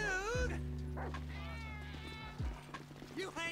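A cat in the video game GTA V meows a few times, fairly close, over a low steady background hum, with someone talking across parts of it.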